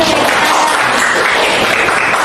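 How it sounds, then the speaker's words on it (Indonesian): A class of schoolchildren clapping together in a teaching-practice lesson, a thick, even burst of applause that fills the whole moment without pause and with no talking over it. "Kita beri tepuk tangan dulu"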